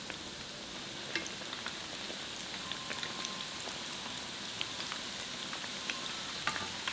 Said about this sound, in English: Transfer the shrimp toast inside and fry until golden brown for about 2 minutes on each side.